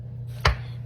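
One crisp chop of a knife cutting through a bar for homemade laundry detergent, a single close thunk over a quiet room hum.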